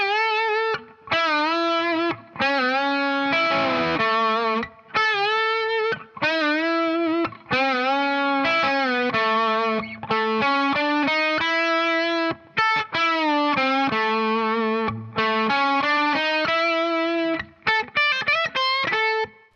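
Distorted electric guitar plays the lead line of a song, with bent notes in choppy phrases separated by short gaps. It is loud and close, and no one talks over it.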